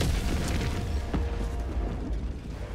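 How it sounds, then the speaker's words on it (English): Orbital strike explosions in the Helldivers 2 video game, a dense, sustained rumble of booms and bursts with sharp blasts near the start, loud and continuous throughout with no talking. "Firing orbital strike."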